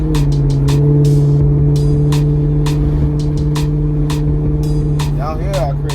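A Maserati GranTurismo engine running on the street with a steady rumbling tone, rising briefly near the end, while people talk over it and a series of short sharp bursts repeat throughout.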